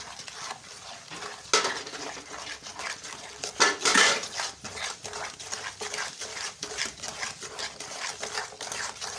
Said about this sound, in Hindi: चम्मच को हिलाते रहेंगे